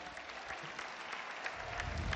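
Audience applauding at a Novara Calcio football club presentation evening, steady clapping from a crowd that swells louder toward the end.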